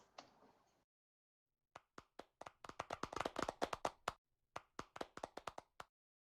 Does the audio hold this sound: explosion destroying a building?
no